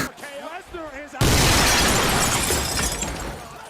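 Real glass shattering during a WWE Elimination Chamber wrestling match: an excited voice breaks off into a sudden loud crash, followed by a dense, sustained wash of breaking glass and crowd roar that slowly fades.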